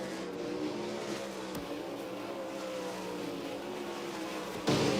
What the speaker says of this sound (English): this is 41 of 41 cars coming out here for Dirt Draft Hot Laps